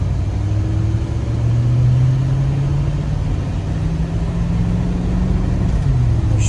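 Square body Chevy truck engine pulling steadily through the gears, a continuous close rumble rising in pitch with each shift, with no voices over it.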